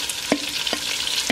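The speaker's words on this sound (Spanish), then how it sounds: "vamos a sofreír el pollo que hemos marinado previamente con salsa de tomate y salsa soya" Chicken marinated in tomato sauce and soy sauce sautés in a small pot, a constant sizzling hiss broken by three sharp stirring scrapes at roughly even intervals.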